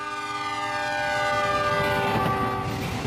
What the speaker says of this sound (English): a train going by blowing its whistle